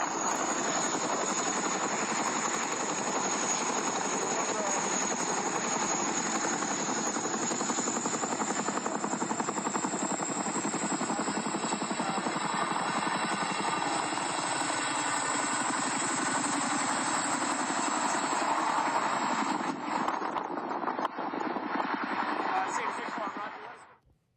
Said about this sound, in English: the camera pans and shows that the 2 helicopters fly away